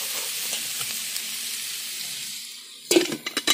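Vegetable curry seasoned with chilli, salt and turmeric sizzling and frying loudly in a pan, a steady close hiss that ends with a few sharp clinks and stirring knocks.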